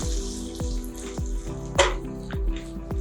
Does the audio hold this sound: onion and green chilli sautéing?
yes